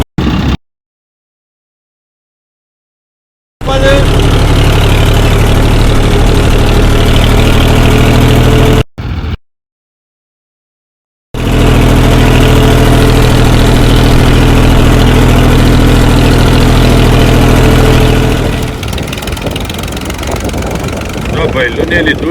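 A farm tractor engine idles with a steady, loud low rumble and knock, cut by two brief silent gaps before the chugging resumes and softens near the end.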